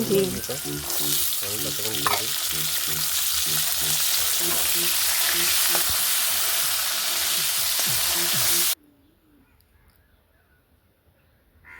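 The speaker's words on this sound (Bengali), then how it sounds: "এবার সেই তেলে দিয়ে দেব গাজরটাও ভেজে নেব ভালো করে" Carrots frying in hot oil, with a loud, continuous sizzle and periodic stirring clinks for about nine seconds before it suddenly drops to near silence.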